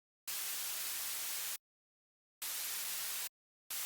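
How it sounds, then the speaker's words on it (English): Bursts of bright, hissing white noise from a 3xOsc synth plugin in FL Studio switch on and off abruptly: a long burst, a pause, a shorter burst, then another starting, each steady and broadband. "I'll quickly add a white noise using 3XO plugin to give the drop an airy,"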